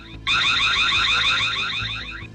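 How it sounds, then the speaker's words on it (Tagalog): A burglar alarm in a gadget store blares continuously with a rapid warbling, pulsing tone, loud and close, trailing off slightly at the end. "Wala nila panumbalinga ang pagtingog sa alarm"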